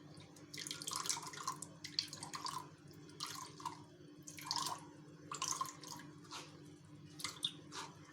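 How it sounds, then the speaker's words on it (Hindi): Homemade peanut-based vegan milk being strained through a kitchen strainer, soft irregular trickles and drips of liquid in quiet bursts over a faint steady hum, close and without talk. "अब ये मिल्क को हम एक स्ट्रेनर से छान लेंगे।"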